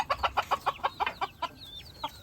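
Native free-range chickens clucking up close, a quick rhythmic run of about ten clucks followed by a few higher, drawn-out calls, clear and fairly loud.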